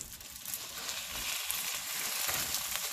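Half rack of lamb frying in a pan while being flipped, a steady soft sizzle with light scraping, fairly quiet and continuous, no talk.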